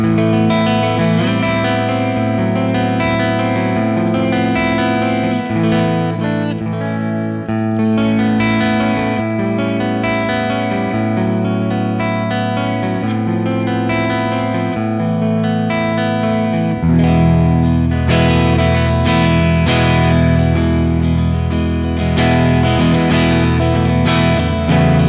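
An electric guitar played through a Friedman JEL-20 amp with boost pedals rings out with saturated, distorted chords and sustained notes with a chorus-like shimmer, loud and continuous for the whole passage, shifting to a heavier low register partway through.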